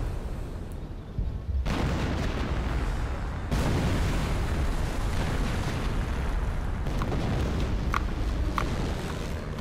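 Heavy explosions and artillery blasts from the World War II strategy game Company of Heroes: Opposing Fronts roar in dense, overlapping bursts, with sharp booms around the two- and four-second marks and scattered pops, loud and continuous with no speech.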